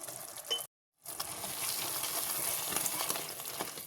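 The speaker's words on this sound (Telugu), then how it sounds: "ఇవన్నీ ఒకసారి బాగా ఫ్రై చేసుకుందామండి. ఈ మసాలాలన్నీ ఆయిల్లో బాగా ఫ్రై అవుతూనే కర్రీ బాగా టేస్ట్ వస్తుందండి." Coriander, garam masala and cumin powders with red chilli powder sizzle and fry in hot oil for a cashew paneer masala curry, a close, steady crackling hiss broken briefly by a short silence.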